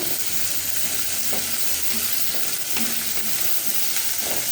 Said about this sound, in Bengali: তেলের মধ্যে দিয়ে দিই। সবটাই একবারে লাল লাল করে ভেজে নেব